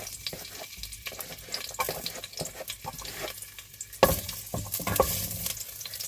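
Garlic sizzles and crackles in hot oil in a saucepan, with clattering and scraping of a utensil in the pan and a louder burst of sizzling partway through.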